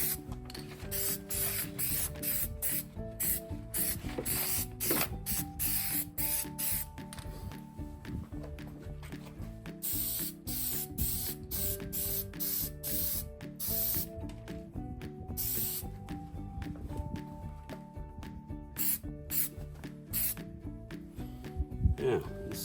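Short hissing bursts of Plasti Dip spray paint being applied to Nissan Xterra Pro 4X emblems, repeating in quick rhythmic pulses alongside mechanical clicks.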